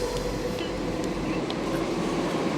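A train runs on rails with a steady, close rumble and rattling carriages throughout, with faint voices underneath.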